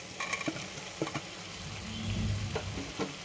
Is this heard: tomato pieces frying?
yes